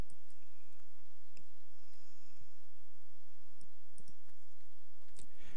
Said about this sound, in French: je clique sur le bouton analyser les mots-clés